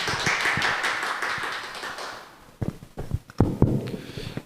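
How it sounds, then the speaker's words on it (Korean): An audience at a public environmental-education lecture applauds to welcome the lecturer, with dense clapping that fades after a couple of seconds into a few scattered claps and taps. "큰 박수로 환영해 주시기 바랍니다"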